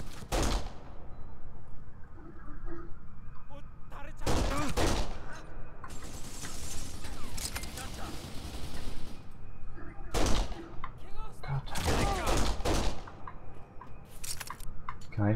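Heavy gunfire in Kane & Lynch: Dead Men, repeated loud bursts of shots in clusters across the stretch, with dense crackling fire in between and game noise underneath.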